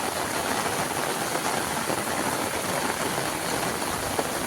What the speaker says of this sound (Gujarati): અત્યારે ફૂલ વરસાદ થઈ ગયો છે ચાલુ.